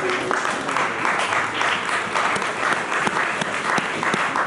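Church congregation breaking into loud, sustained applause during a sermon by Pastor Sebastien Ngoy, dense rippling clapping filling the room at an even level for several seconds.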